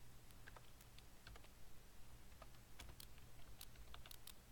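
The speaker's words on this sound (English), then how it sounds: "then I could just type in whatever I wanted" Rapid, uneven keystrokes on a computer keyboard, close and fairly quiet over a low steady hum, with brief pauses between bursts of clicks and no talking.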